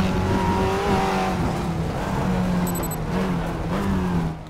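A race car in the RaceRoom racing game, engine droning loud and steady through a late braking zone, pitch shifting as it slows and drives on, with a brief high electronic tone partway through.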